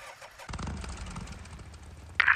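An upgraded motorcycle in the video game Days Gone starts up after a short quiet moment. The engine catches and settles into a low, rumbling idle, with a sharp burst near the end.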